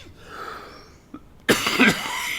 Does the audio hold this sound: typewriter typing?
no